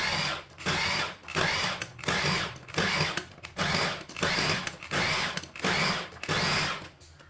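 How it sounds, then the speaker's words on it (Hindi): An electric mixer grinder chops mustard greens for sarson ka saag in short repeated bursts, about nine loud whirring pulses separated by brief pauses, close and alone. "साग को ना ग्राइंड कर लेंगे।"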